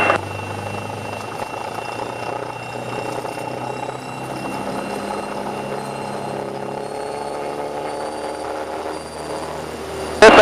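A small training airplane's propeller engine drones steadily at high power during the takeoff roll down the runway, loud and close from inside the cabin, with no talking.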